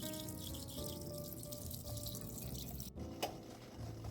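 Water being drained from a cooking pot, a faint steady trickle and drip with one brief clink partway through.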